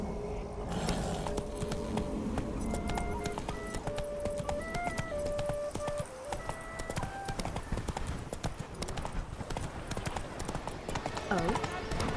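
Roach the horse's hooves clip-clop in a steady, close walking rhythm in The Witcher 3: Blood and Wine, playing under tonal music and a brief voice.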